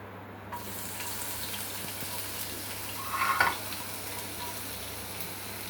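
Crushed cumin, curry leaves and garlic sizzle in hot oil in a kadhai: a steady, close frying hiss with one brief louder flare partway through, over a low hum, with no talking.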